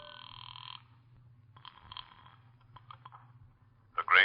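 A telephone rings from a phone booth in an old-time radio drama, a steady electric bell burst at the start, then faint clicks and handling noises over a low hum, ending with a short louder rustle.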